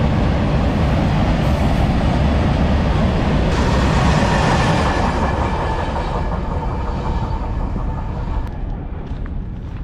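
A goods train pulls out of the platform at Begunkodar railway station in Purulia, its loud, steady rumble and rolling wagon noise filling the whole stretch close by, with a slight easing toward the end.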